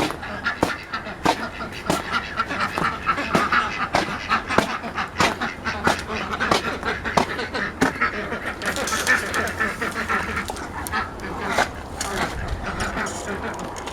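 Ducks on a homestead quacking in repeated sharp bursts throughout, with a steady background bed of noise and some nearby activity.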